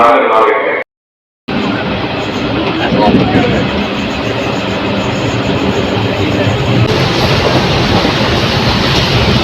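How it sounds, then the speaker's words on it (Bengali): A loud, steady rumble of a train at a station platform fills the scene, with rolling rail noise and a brief dropout near the start; voices murmur faintly underneath. "এবার প্ল্যাটফর্ম নাম্বার 1-এ দিচ্ছে, যেটা আমাদের ট্রেন।"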